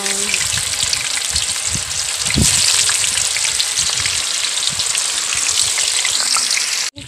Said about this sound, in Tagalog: Yung tokwa, malapit na rin siyang maprito.